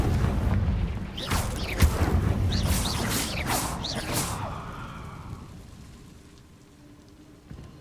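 A Confringo explosion spell cast in Hogwarts Legacy bursts with a rumbling crackle, while whooshing, whistling magical streaks fly through in quick succession before the noise fades to a low ambient hum.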